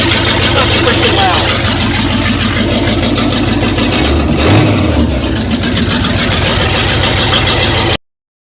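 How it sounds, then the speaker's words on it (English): A K10 truck engine runs with open headers, a loud, raw, close idle with a brief rev swelling in the middle before settling back, then cutting off abruptly at the end. "I'm going to start it, show what everybody might want to hear with open headers."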